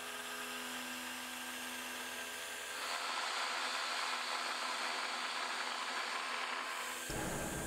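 A high-speed spindle on a LinuxCNC mill with a 3/8 inch end mill, replaying cutting operations, gives a steady high-pitched whine that shifts tone partway through and then changes again near the end, with no talking.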